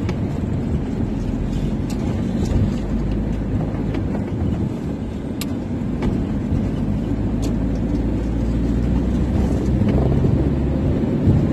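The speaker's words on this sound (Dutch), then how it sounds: "En het waait ook nog." Steady wind gusting across the microphone outdoors during an evening walk near a campsite in Cavaillon, a loud continuous rumble with low buffeting throughout and no talk.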